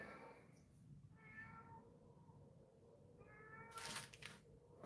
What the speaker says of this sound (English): You sound like a person saying the word meow.